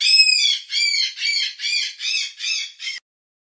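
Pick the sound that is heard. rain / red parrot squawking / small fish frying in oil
red parrot squawking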